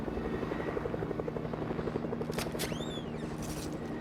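A helicopter in the Fortnite video game whirs with steady rotor chop throughout, joined near the end by short sliding, rising in-game effects.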